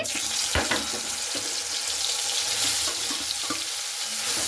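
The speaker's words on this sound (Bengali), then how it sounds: "এরপরে সেই মাখানো সয়াবিনটা আমি দিয়ে দিচ্ছি" Soybean chunks dropped into hot oil with black cumin in a home kitchen pan, giving a steady broadband hiss and crackle with a few sharp clatters near the start.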